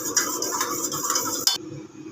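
Two beaten eggs being whisked with a pinch of salt in a bowl, a quick run of close scraping and clinking strokes of utensil against the dish, with no talking.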